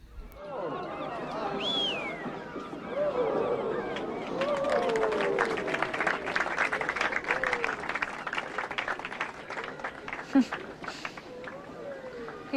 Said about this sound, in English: People always cheer when they turn the lights on in the evening, every time.